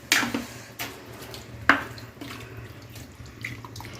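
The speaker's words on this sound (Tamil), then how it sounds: "ஒரு 2 டம்ளர் தண்ணி ஊற்றிக்கணும். மிக்ஸி கழுவுன தண்ணியை நல்லா கறி முழுங்குற அளவுக்கு தண்ணி இருக்கணும்." Water that was used to rinse a mixer jar is poured into a pot of duck curry gravy: a few sharp splashes and splattering pours with a soft watery trickle between them, close by and with no talking.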